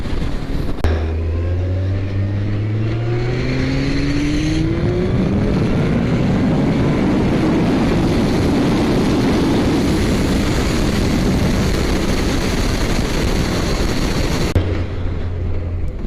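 A Kawasaki ZZR1400 motorcycle engine revs up, its tone rising steadily into a loud, sustained roar that holds for several seconds before dropping back to idle.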